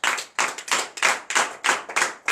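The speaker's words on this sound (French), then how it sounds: "je vous demande d'applaudir très fort" Church congregation clapping loudly during a night prayer service in Benin, about seven sharp, rhythmic bursts of many hands clapping together in a steady beat, with no talk.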